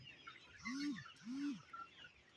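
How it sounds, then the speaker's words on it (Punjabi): Chickens huddled together during rainy weather give two drawn-out, low clucking calls in quick succession over a steady background hiss, fairly close and otherwise calm. "ਦੇਖੋ ਮੁਰਗੀਆਂ"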